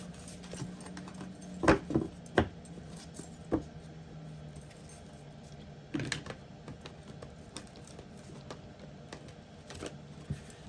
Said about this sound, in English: still trying to shuffle this deck here